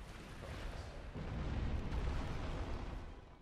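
A fire demon's fire attack in Dark Souls, heard as a dense, low, rumbling roar of flame that swells and then fades over a few seconds.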